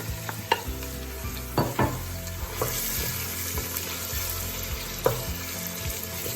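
Garlic and onions sautéing in a hot pan for bacalhau com natas, a steady close sizzle with intermittent scraping stir strokes and a few sharper clinks.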